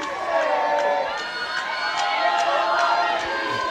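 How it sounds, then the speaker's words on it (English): A crowd cheers at a women's rugby league match between Wigan Warriors and St Helens at Robin Park. The roar is sustained and lively, with shouts rising and falling and a commentator talking over it. "Crowd are into it now as well."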